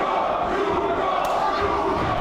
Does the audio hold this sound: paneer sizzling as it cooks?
no